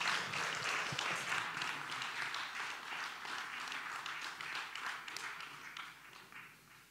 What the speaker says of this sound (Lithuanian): Aplodismentai, pasitikime svečius.